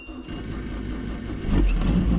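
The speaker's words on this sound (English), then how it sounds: "Let me just make sure the car still bloody starts." A drag race car whose throttle stuck open at 160 mph is started: a brief cranking burst gives way to a loud, steady idle that swells near the end, close up with no talk.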